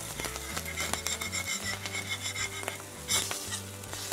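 Smash burger patties, seasoned with salt, pepper and garlic, sizzle steadily on a griddle just after flipping, with scraping spatula clinks and metallic knocks over the hiss; close and fairly loud, no talking.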